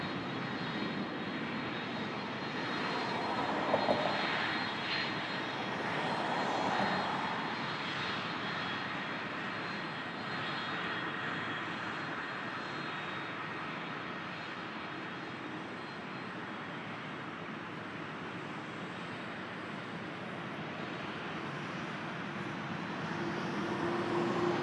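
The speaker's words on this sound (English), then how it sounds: "that's the A330 to Frankfurt" An Airbus A330 jet at Toronto airport produces a steady distant roar of engines that swells slightly midway and holds as a broad, even rumble throughout.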